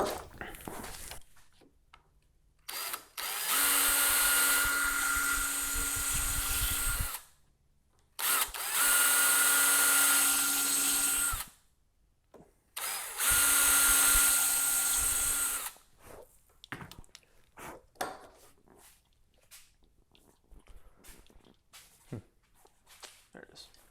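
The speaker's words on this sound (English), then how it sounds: "I use a self-centering VIX bit to make sure that my holes are centered within the holes in the hinge" Power drill boring screw holes through a door hinge with a self-centering Vix bit, three loud whining bursts of several seconds each separated by pauses, with light handling clicks and taps after.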